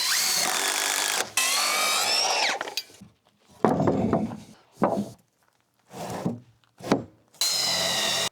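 A power drill works on a trailer rebuild, its motor whining up to speed in two long runs that bracket several shorter, choppier bursts of grinding against wood, close and fairly loud.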